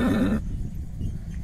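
A Marwari horse at the Pushkar fair 2021 gives a short, loud whinny, followed by crowd murmur and outdoor noise.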